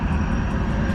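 A jetfoil boat passes a fishing harbour on Fukue Island in the Goto Islands, giving off a steady, loud jet-engine roar for a brief moment with no voices.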